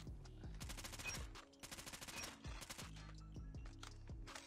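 AS Val suppressed rifle firing in Call of Duty Mobile, loud close bursts of rapid automatic shots in several strings separated by short pauses, with no talking.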